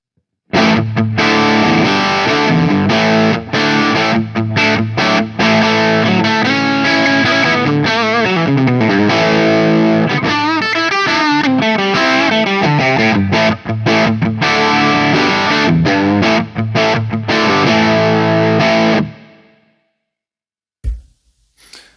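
Heavily distorted electric guitar through a Marshall-style preamp chugs through rhythm rock chords, loud and saturated, then cuts out abruptly near the end with a brief string noise.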